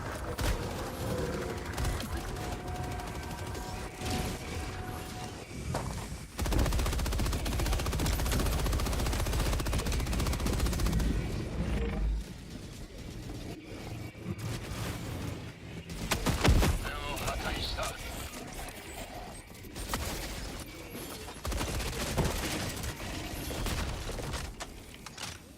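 An MG43 machine gun in Helldivers 2 fires in sustained loud automatic bursts with rumbling battle noise and mechanical clanks, along with a voice speaking over the action.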